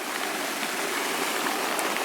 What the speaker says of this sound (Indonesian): Tapi ini hujan deras banget ya.